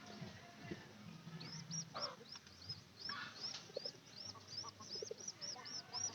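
Pigeons cooing in a loft, soft low coos repeating under someone talking nearby, with scattered chirpy bird calls and shuffling in the background.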